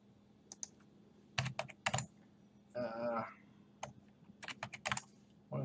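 Keys tapped on a computer keyboard at a day trader's desk, quick irregular bursts of clicks with a short rattling run in the middle, close and fairly quiet in a still room.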